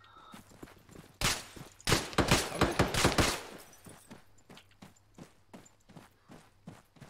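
Blaster fire in a video game rings out as a dense volley of rapid shots, followed by a steady run of evenly spaced single shots, no talking.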